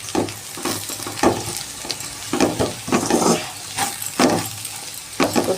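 Okra fries with sesame powder in a pan, loud close sizzling broken by repeated bursts of stirring and scraping in an uneven rhythm, with no voices.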